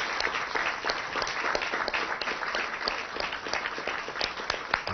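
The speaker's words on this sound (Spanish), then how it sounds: "vamos a dar un aplauso a estos hermanos del Salvador." Audience applause for a group from El Salvador at a live Venezuelan government broadcast event, a dense, steady wash of many hands clapping with no talk over it.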